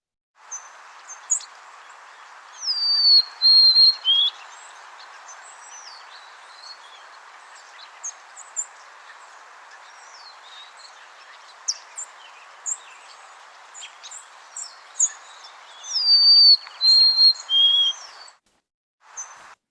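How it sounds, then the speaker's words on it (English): A golden-crowned sparrow sings clear, descending whistled phrases that repeat several times over a steady hiss of background noise. "the golden-crowned sparrows song"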